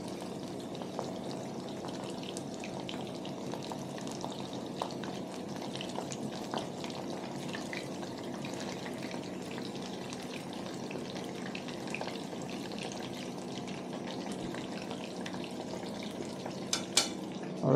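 Fish caught on the flats fry in a pan with a continuous crackling sizzle and are rolled over, close and fairly loud, with scattered scraping clicks and a couple of sharper knocks near the end.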